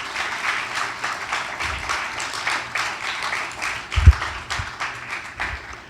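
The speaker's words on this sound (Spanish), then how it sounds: "dale un aplauso al Señor" A church congregation claps during a worship service, producing steady, dense applause throughout with a few louder thumps, heard at moderate distance with no distinct voices.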